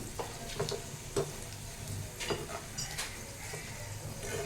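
Okra sizzles steadily in a pan with curry leaves, a continuous frying hiss broken by a few soft stirring clicks, close and moderately quiet with no talking.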